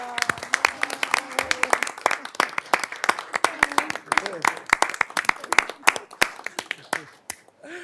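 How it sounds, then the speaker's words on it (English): Audience applause at a township board of trustees meeting, a sustained round of sharp clapping from a roomful of people that thins out and stops near the end. "join me in a big round of applause"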